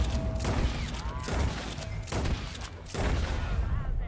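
Bursts of gunfire from an in-game shootout in Red Dead Online, several heavy shots and rattling volleys in short clusters, fairly quiet overall and mixed with other game sounds.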